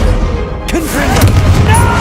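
Confringo, the blasting spell in Hogwarts Legacy, bursts with a loud close boom and crackling impact amid a busy fight, layered with a voiced spell cry.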